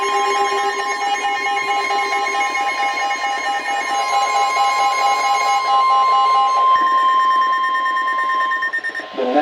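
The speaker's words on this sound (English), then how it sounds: "This station will broadcast severe weather alarm tones" A NOAA Weather Radio broadcast sounds its severe weather alarm: a loud, steady, piercing electronic tone held continuously for about nine seconds, alone, with a warbling pulse beneath it and a brief break near the end.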